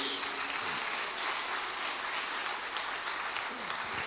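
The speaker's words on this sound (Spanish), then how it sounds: "¿Cuántos le dan un aplauso de reconocimiento a nuestro Dios?" Congregation applauding during a church service, a steady wash of clapping that stays loud and dense throughout without pause.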